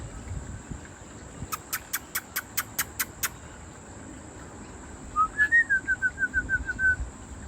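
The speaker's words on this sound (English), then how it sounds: "It's your friend, the King Parrot." A King Parrot gives a run of about eight high, evenly spaced piping calls. A brief warbling whistled phrase follows. The calls are clear against faint insect hum, with no voices.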